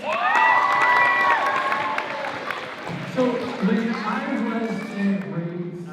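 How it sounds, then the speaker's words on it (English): An audience greets a speaker with applause and cheering, loud clapping and shouts at first that thin out into scattered clapping while voices talk over the crowd. "Everybody give Dan a round of applause."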